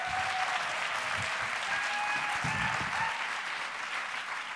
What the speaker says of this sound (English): Please give a round of applause to Mary Reckner